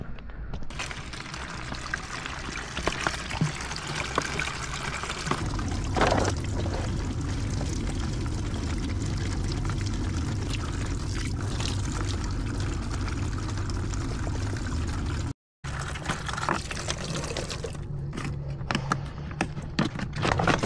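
Water pours steadily into a container at a cold, foggy hillside campsite, a continuous splashing trickle that shifts in tone midway, briefly cuts out, then resumes with a few faint clinks.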